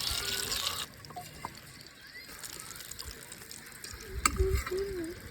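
Fish fillets for a crispy restaurant-style fry sizzle steadily in hot oil, with soft stirring clinks and a brief louder clatter near the end; the cooking noise is close and continuous with no talk.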